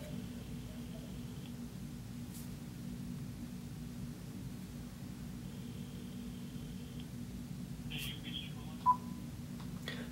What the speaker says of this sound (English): So I'm calling my cell phone right now.